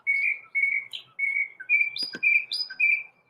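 A pet bird chirps in a series of bright, clear whistled chirps in quick bursts, close and alone, with no talking.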